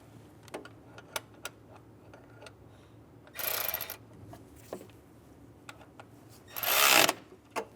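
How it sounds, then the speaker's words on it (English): A ratchet snugs a 12 mm bolt on a bracket at the back of a 2011-2014 Hyundai Sonata engine, with sparse ticks and clicks and two short bursts of rapid ratcheting, close and fairly quiet. "Snug the bolt down."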